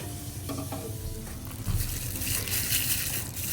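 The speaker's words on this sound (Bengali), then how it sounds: "এবার ভেজে নিচ্ছি, ডোবা তেলেই ভাজতে হবে।" Battered cabbage deep-frying in hot oil, giving a steady, dense sizzle with bubbling that swells slightly partway through. It is close and continuous, and no one talks.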